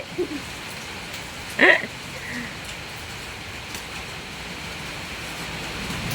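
Rain falls in a soft, even hiss that carries through the whole stretch, faint and steady, with a brief voice-like sound rising over it early on.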